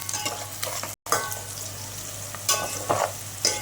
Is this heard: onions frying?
yes